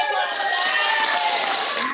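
Children and adults at a school assembly cheer and applaud for a student, a short, dense wash of clapping and shouting that fills the room.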